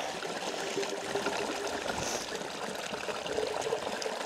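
Water of a small stream flowing and trickling close by, a steady babbling rush with light splashy detail throughout, heard alone with no talking.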